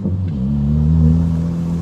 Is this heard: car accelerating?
yes